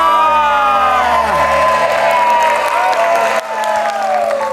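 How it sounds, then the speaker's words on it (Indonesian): Studio audience at an Indonesian TV game show cheers, whoops and applauds loudly for two competing family teams, a dense continuous roar of clapping and shouting with some voices rising above it, fading slightly near the end. "Tepuk tangan untuk kedua tim, silakan kembali ke tempat"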